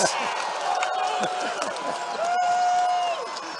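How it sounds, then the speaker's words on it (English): A college basketball crowd in an arena cheers and roars in a sustained swell, with whistles and shouts rising beneath a commentator's steady voice and sneakers squeaking on the court. "Crowd getting into it."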